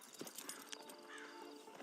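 Horse hooves clip-clop faintly in Red Dead Redemption 2, a quick run of light steps under quiet ambience.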